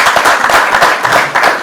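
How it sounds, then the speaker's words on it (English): An indoor audience at a film awards event claps for the jury president, giving a short burst of loud, close, steady applause with no talk. "please a round of applause for him"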